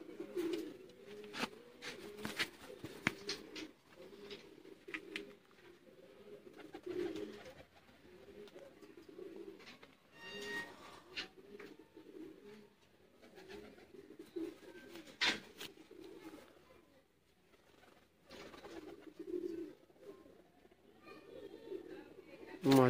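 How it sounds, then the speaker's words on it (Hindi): Teddy pigeons coo repeatedly in soft low rolling calls, close by, with someone talking intermittently over them. "दोस्तों हसीन और पूरे साइज का कबूतर है।"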